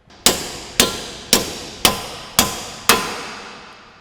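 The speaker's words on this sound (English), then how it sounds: "hammer them through those splines before you can pull everything out" Six sharp metallic hammer blows ring out at a steady rhythm as bolts are driven out through splines on an S550 Mustang's suspension, each strike close and loud with a short ringing decay.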